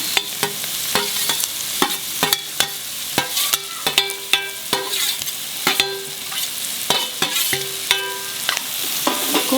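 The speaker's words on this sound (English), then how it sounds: "Now I can add in the fried prawns." Fried prawns are stirred in a frying pan over a low-medium flame, with a spatula clacking against the pan in a fast, uneven rhythm over a continuous close sizzle.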